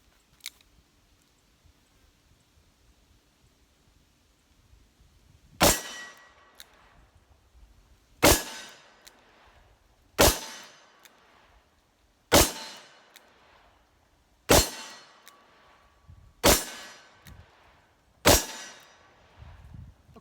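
Seven loud revolver shots from a Smith & Wesson 686+ with a 3-inch barrel at a shooting range, fired alone in a steady, evenly spaced string roughly two seconds apart, each a sharp crack with a short decay.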